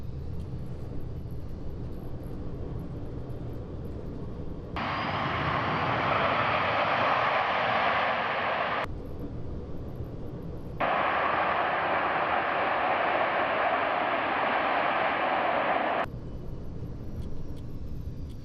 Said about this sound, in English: that's going to be the thrust reverse on the gravel runway